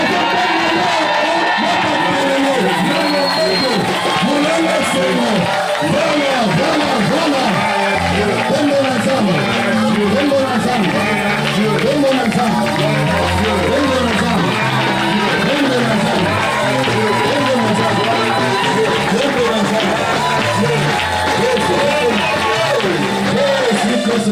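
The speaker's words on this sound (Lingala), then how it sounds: "je t'invite à pousser les cris de joie" A church congregation at a Sunday service shouts and cheers for joy in a dense, continuous roar of many voices, loud and close, with whoops and a speaking voice mixed in.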